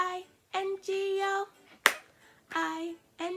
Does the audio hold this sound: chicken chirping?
no